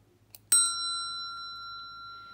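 An Anverdi spirit bell gives a single bright ding after a faint tap, then rings on in a long, clear, slowly fading tone in a quiet room.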